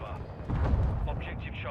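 Bombs exploding in Modern Warfare 2, a muffled low boom rolling out under a thick layer of battle noise while voices talk over it.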